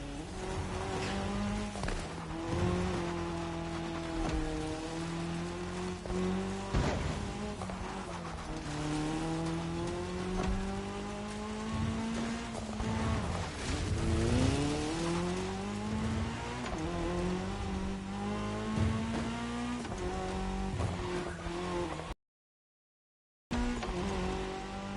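Race cars on tarmac during a cross-terrain race, several engines revving and shifting loudly with rising and falling pitch, tires squealing, one continuous roar that cuts out briefly near the end.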